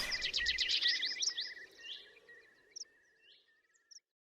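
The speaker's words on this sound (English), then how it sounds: "Little tweet there. Bird saying goodbye." A small bird chirps and tweets in a quick run of bright calls, then a few isolated faint chirps trail off into near silence.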